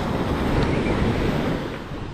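Ocean waves and wind at sea near a boat, a continuous washing surf roar with gusty microphone wind rumble, easing slightly toward the end.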